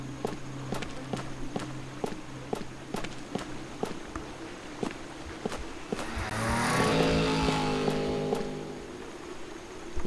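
Ghost motorcycle in the DreadOut horror video game, an engine swelling from a distance into a loud passing roar with a falling pitch, preceded by a steady run of footsteps.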